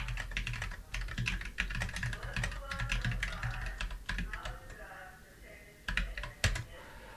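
Rapid clicking keystrokes on a computer keyboard while a command is typed into a command-line tool, steady and close throughout with a few sharper key hits near the end.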